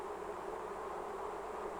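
Worker honey bees hum steadily inside a hive, a dense, continuous drone that holds an even level throughout with no voices.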